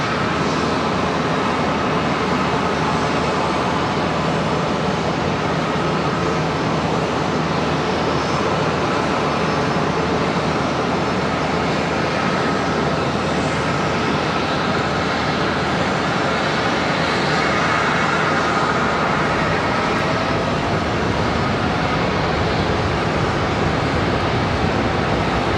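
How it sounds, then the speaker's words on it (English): An Etihad airliner departs Charlotte Douglas airport, its jet engines producing a loud, sustained broadband roar that holds steady throughout, with no voices over it. "Right out of that arrival and into the departure of Etihad"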